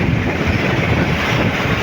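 Strong wind roars steadily across the microphone with churning waves and surf at sea during bad weather near service boats off a fishing area, a continuous loud rush with no talk.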